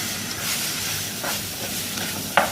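Spice powders frying in a pan for a hotel-style fish curry, giving a steady soft sizzle and hiss, close by, with a brief stir or clink near the end.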